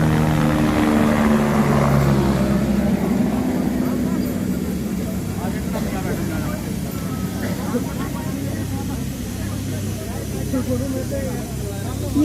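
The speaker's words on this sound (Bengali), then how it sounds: "আর এই সারা দিন ধরে এই হেলিকপ্টার যাচ্ছে।" A helicopter passes over a mountain pilgrimage route, its low rotor drone loud and continuous, slowly fading as it moves away, with people talking beneath it.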